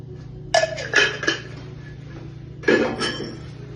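A spoon scrapes and clinks against a pan while diced tomatoes and enchilada sauce are stirred together, making a few short clattering bursts close by with quiet gaps between them.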